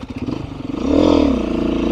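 A Beta 390 dirt bike fitted with a 13-tooth front sprocket revs up close by, the engine note climbing and holding in a brief, loud rasping burst.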